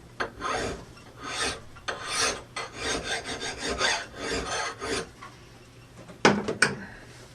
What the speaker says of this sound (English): I can use my files now to do that fine work.